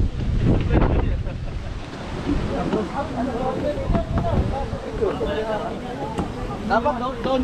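Steady wind rushes and buffets the microphone outdoors in Taiwan, with surf-like roar underneath and people talking in the background throughout.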